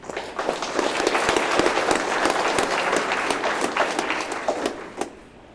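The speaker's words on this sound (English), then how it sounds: "So give yourself a round of applause on that." Audience at an FFA banquet breaking into sustained applause, dense clapping from many hands that stays strong for several seconds before fading out at the end.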